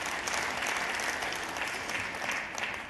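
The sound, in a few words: audience applause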